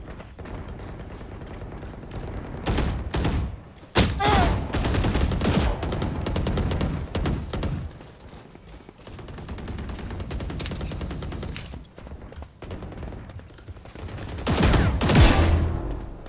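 Video game gunfire on a shooting practice range: bursts of rapid automatic shots and single cracks in clusters separated by brief lulls, loud and close, with no talking.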